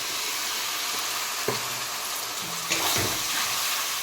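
Liquid is poured into a pan of frying Odisha-style mushroom fish curry, giving a steady, fairly loud hiss of sizzling with a couple of soft clinks, no voices present.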